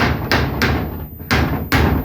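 A hammer drives a nail through wooden planks on a house under construction: four loud, sharp blows spaced unevenly with short gaps between them, close by and with no speech.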